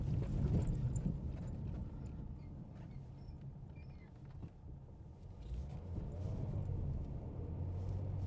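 A 2016 Ford Mustang V6 with stiff suspension rolls at about 20 mph over a badly broken road in Merrimack, New Hampshire, giving a steady low cabin rumble with thumps from harsh bumps and no talk.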